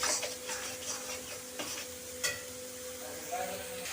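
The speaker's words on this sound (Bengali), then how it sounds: "ভালো করে আমি হলুদ আর লবণটাকে মশলার সাথে মিশিয়ে একটু ভালো ভেজে নেব" Spice paste with turmeric and salt frying in a pan for aila fish curry: soft sizzling under repeated clicks and scrapes of a spoon stirring against the pan, a steady faint tone in the background.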